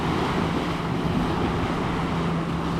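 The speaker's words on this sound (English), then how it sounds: "the waves are still coming in" Ocean waves rolling onto a Florida Gulf Coast beach, a continuous rushing wash of surf mixed with gusty wind buffeting the microphone, close and steady with no voices.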